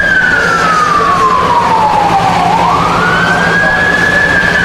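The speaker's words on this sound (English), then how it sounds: "Fire truck passes by us." A fire truck siren wails loudly and continuously, its pitch falling as it passes close by a baseball game and then rising again, over constant background noise.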